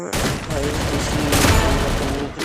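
Rapid gunfire in a shooting video game rattles out as one loud, continuous automatic burst, close and dense, lasting a couple of seconds.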